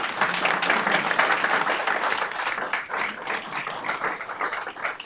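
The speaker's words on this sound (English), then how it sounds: "Give you all a round of applause." A room full of people at a county commissioners' meeting applauds 4-H Club kids, the clapping loud, close and steady for about five seconds before thinning slightly toward the end.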